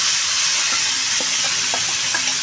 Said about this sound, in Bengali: আমার এটা পেঁয়াজ আর রসুনটা ভাজা হয়ে গেছে